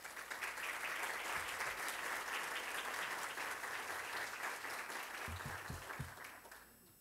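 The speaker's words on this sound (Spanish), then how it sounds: "Para ellos pido un fuerte aplauso." Seminar audience in an auditorium applauds for several seconds, a steady crackle of many hands that thins and fades out near the end, with a few thumps close by.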